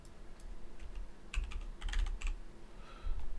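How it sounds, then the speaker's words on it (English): Rapid keyboard typing at a computer, bursts of close clicking keystrokes in an irregular rhythm, alone with no talk. "I cleaned my keyboard and it's not acting right."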